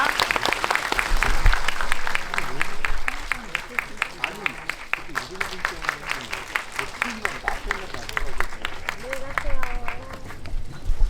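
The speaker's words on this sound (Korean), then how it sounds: "황동혁 감독님 그리고 이정재 감독님에게도 큰 박수 같이 치면서 이 자리 나가도록 하겠습니다" An audience in a theatre applauds at the close of a film talk event, with dense, sustained clapping throughout and voices speaking over it.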